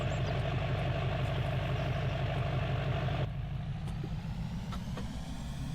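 Straight-piped truck engine idling in Farming Simulator 25, a loud, rough, throbbing low rumble that drops in intensity partway through and keeps going steadily with no voices.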